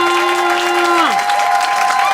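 A political rally audience in Port-Gentil claps under a sustained tonal note that slides downward, a loud, dense patter of hands throughout.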